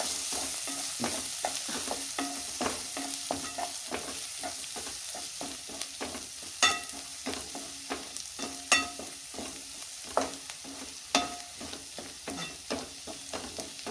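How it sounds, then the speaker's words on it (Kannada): Vegetable fried rice seasoned with garam masala being stirred in a pan, with a steady sizzle beneath repeated scraping clatters of the spatula, some louder knocks standing out, and no one talking. "ಸ್ವಲ್ಪ ಗರಂ ಮಸಾಲ ಸ್ವಲ್ಪ ಚೆನ್ನಾಗಿ ಬಗೆದು ತಿರುಗಿಸ್ಕೊಳ್ಳೋಣ"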